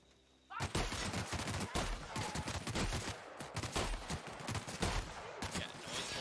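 Shotgun fire in the video game The Outer Worlds, loud booming blasts packed densely together with overlapping battle noise, sounding like a sustained burst of gunfire after a quiet opening half second.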